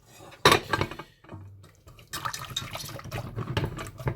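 Lemon zest stirred into hot brewing liquid in a pot: clanking utensil against metal, sloshing and liquid swirls in irregular bursts, close and moderately loud, with no talking.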